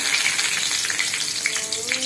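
Loud steady sizzling of curry leaves frying in hot oil, a dense hiss with brief crackles and no talking.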